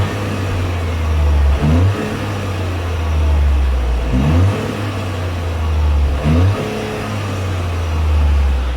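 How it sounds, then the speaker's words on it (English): A warmed-up car fitted with an OPF particulate filter revs three times in quick succession. Each blip rises sharply and then falls back to a steady, muted idle, all close and fairly loud. "get a few revs. Probably won't make much noise being that it's got an OPF."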